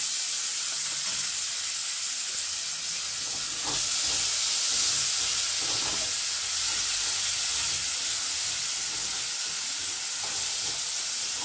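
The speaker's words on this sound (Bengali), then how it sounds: "এরপরে আমি টমেটো, ক্যাপসিকাম এগুলো একটু ভেজে নেব।" Tomato and capsicum frying in oil in a kadhai for kadhai paneer, a steady broad sizzle and hiss running throughout, with faint stirring clicks and no talk.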